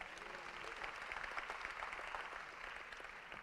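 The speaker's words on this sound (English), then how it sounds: "Can we please give Mr. Scott and the Wendell Scott Foundation another round of applause?" Applause from a gala audience at the Wendell Scott Foundation Legacy Gala, a dense wash of many hands clapping at a distance, faint and steady throughout with no clear individual claps.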